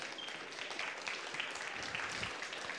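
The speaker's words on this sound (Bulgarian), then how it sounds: "Аплодисменти за него." Audience applause at a live talk event on biotechnology and 3D bioprinting, a steady, fairly quiet wash of clapping that lasts throughout with no voices over it.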